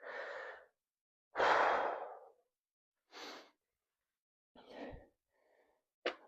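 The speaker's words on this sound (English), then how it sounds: "just take like 7 to 10 big breaths" Deep, heavy breaths taken during a rest break in a full-body home workout, several slow exhales separated by pauses, close and fairly quiet, with no talking.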